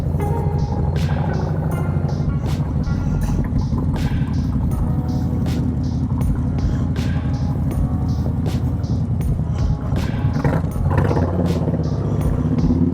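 A 2018 Harley-Davidson Street Glide Special fitted with an S&S 124-inch big bore kit pulls away gently, its deep, even engine rumble holding steady and close throughout, with faint clicks and clatter over the top.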